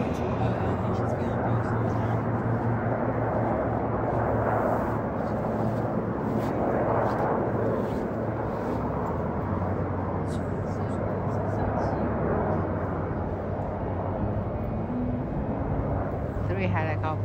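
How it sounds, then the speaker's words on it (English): Three helicopters pass overhead outside the Washington, DC jail in a continuous, heavy rumbling roar that holds steady throughout, with faint muffled voices underneath. "Three helicopters."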